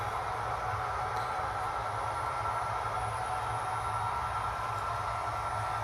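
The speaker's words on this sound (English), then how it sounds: "So that BNSF train's coming around the mountain there." A BNSF train rounds a mountain curve, a steady, continuous rumble of rolling cars and wheels on rail holding at moderate, fairly distant level throughout with no speech.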